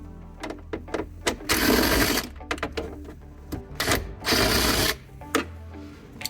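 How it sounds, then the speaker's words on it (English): A power drill backing trim screws out of the dash panel of a Ford Expedition, two bursts of whirring drill with clicks and ratcheting between them, close and fairly faint. "Then take out those screws."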